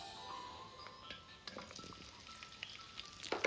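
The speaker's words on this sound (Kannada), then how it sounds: "Onion fry ಆವಡು." Onions fry in hot oil as part of a chicken green masala, giving a faint, steady crackle and sizzle with scattered pops and a few clinks of stirring near the end, with no talk.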